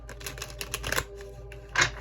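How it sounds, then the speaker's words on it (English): A tarot deck is shuffled by hand, giving a quick series of light, crisp card clicks and flutters close by, ending in a short louder riffle burst. "I'm going to go ahead and shuffle them again"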